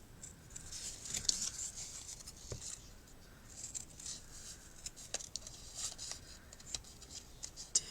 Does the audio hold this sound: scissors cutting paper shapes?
yes